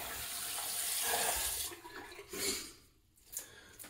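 A bathroom tap runs water steadily for about a second and a half as a razor is rinsed, then the flow breaks into a few short splashes and trickles, fairly quiet and close.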